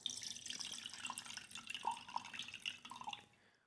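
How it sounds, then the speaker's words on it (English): Rinse water is poured off washed rice, a soft trickle and splash with scattered drips, faint and close, tapering away at the end. "This is rice and you keep on adding the water to it and you keep on washing."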